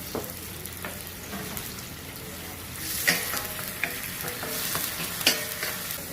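Onion, ginger and garlic sizzle and fry steadily in hot oil, with a spoon scraping and stirring the pan in occasional clicks and knocks, close up.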